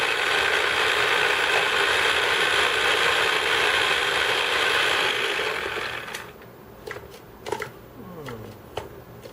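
An electric blender purees guajillo peppers, roaring steadily and loudly for about six seconds before shutting off, followed by a few faint clicks and knocks.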